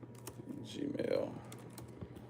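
Quick, light keystrokes on a computer keyboard as a password goes in, soft clicks spread across a couple of seconds with a voice murmuring over them.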